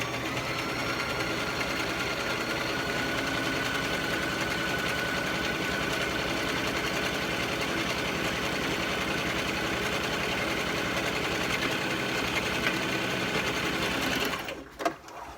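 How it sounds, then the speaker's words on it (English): A sewing machine runs steadily, stitching a fabric tube for a scrunchie, with a continuous close whirring hum that stops abruptly near the end. "So I'll just sew it right now. Taking out the pins as I go."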